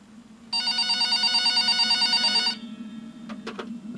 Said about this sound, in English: About an hour later, the phone on the counter rang.